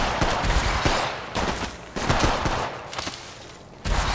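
Video game firefight with rapid bursts of automatic gunfire, several volleys separated by brief pauses, loud and close with no talk over the shots.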